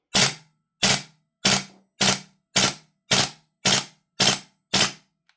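A Vorsk VMP-2 gas blowback airsoft rifle fires nine sharp, loud shots at a steady, evenly spaced pace, each crack ending cleanly with no talking.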